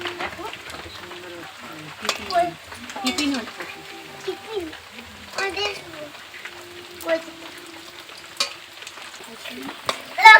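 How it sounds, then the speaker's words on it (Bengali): Bread chops or stuffed sandwiches fry in oil with a soft, steady sizzle and occasional scraping stirs, while people talk close by. "স্যান্ডউইচগুলো খুব ভালো করে ভাজা হয়ে গেছে।"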